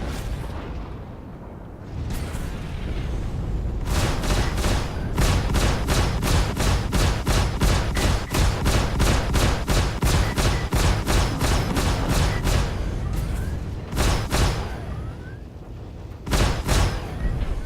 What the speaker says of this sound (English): Someone is throwing a lot of rockets